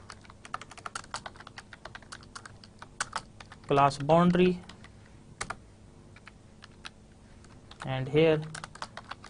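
Rapid, steady clicking of a computer keyboard as someone types entries into an Excel spreadsheet during a statistics lecture, with a voice briefly talking over the keystrokes.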